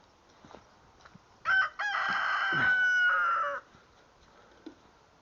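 A rooster crows once loudly nearby among a flock of chickens, a long drawn-out call after a short break, with faint clucking and soft rustling before and after.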